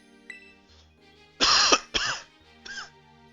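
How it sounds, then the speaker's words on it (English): A person coughs after choking on swallowed water: a faint throat clear, then two loud close harsh coughs and a smaller third one, in near silence. "I swallowed water wrong, so I choked on it, and now I'm coughing like crazy"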